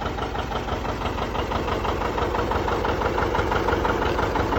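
A John Deere 70 diesel tractor idles at about 700 RPM, a steady, loud, close chugging with an even low knock running throughout, with no voices.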